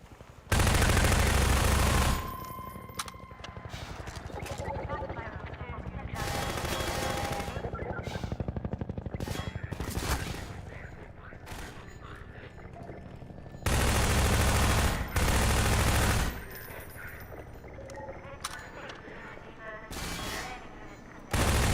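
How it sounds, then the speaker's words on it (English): Loud automatic gunfire and single gunshots from Half-Life 2 burst out in repeated volleys, with dense rapid bursts separated by quieter stretches of game noise and occasional talk underneath. "Someone hard to hear me over gunshots?"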